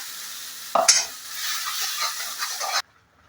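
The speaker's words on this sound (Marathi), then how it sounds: "शेंगदाणे परत थोडेसे भाजून घ्या" Peanuts and chillies roasting in hot oil in a pan for a spicy peanut amti, a close bright sizzle with stirring scrapes for about two seconds before cutting off.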